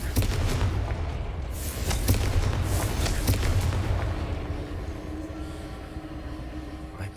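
Confringo fire spell explosions in Hogwarts Legacy boom in a series of loud, close blasts, then fade into a lower rumbling background with faint fizzing.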